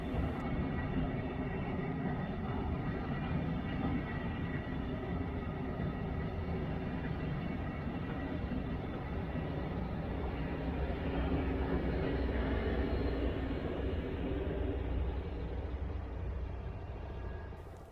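Brightline test train Bright Red 2 rolls by at low speed, a steady broad rumble and rushing hiss holding evenly for the whole stretch before easing at the end.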